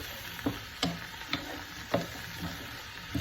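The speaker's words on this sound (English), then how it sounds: "Keep stirring away." A spoon stirs a hearty vegetarian vegetable soup in a pot, knocking against the pot in soft, evenly spaced taps over a faint steady sizzle, quiet and close with no talk.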